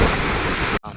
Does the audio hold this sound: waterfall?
yes